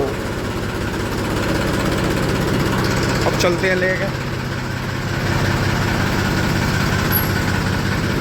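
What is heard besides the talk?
Massey tractor engine idling after being started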